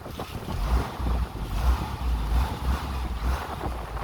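A motor boat with freshly changed oil runs fast over water, its low engine drone mixed with wind buffeting and splashing waves, moderately quiet and steady.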